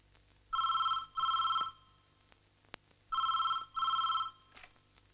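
A telephone rings in a Malayalam film scene, two loud double-burst rings separated by a short pause, heard alone against a quiet background.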